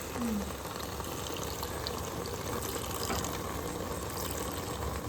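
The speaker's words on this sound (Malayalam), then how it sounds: "തേങ്ങാപ്പാൽ ഒഴിക്കണം രണ്ടാം പാലാണ്" Second coconut milk is poured into a pot of beef cooking for beef nirvana, giving a steady, close bubbling and liquid rush that carries evenly throughout with no talking.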